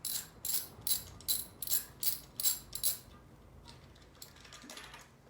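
A socket wrench ratchets while unscrewing a spark plug, giving about eight quick clicking bursts in an even rhythm, close and fairly quiet, then fainter scattered ticks toward the end.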